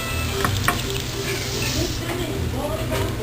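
Snapper fillets fry golden brown in oil in a frying pan with a close, continuous crackling sizzle and a few louder pops and stirring scrapes.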